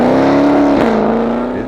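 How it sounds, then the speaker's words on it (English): A carbon fiber Dodge Charger fitted with a 1000 HP Demon engine runs loud and close, its steady engine tone sagging briefly in a quick dip before settling back into a smooth drone. "The sound of this car is another one where you can see it's totally different than a Charger that you've heard previously."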